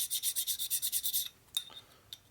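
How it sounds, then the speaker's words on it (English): A hone works inside a Harley Sportster engine cylinder with about a dozen quick, rhythmic rasping strokes, close and fairly quiet, then stops, leaving a couple of faint metallic taps. "right now I want to rehone this"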